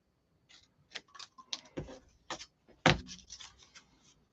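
Scissors snip through paper for a collage, a quiet irregular series of short crisp cuts close to the microphone, with no talk.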